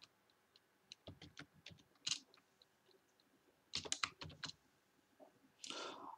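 Keys click on a computer keyboard as a captcha code is typed, with quiet irregular taps in two bursts and a short rustle at the end, and nobody speaks.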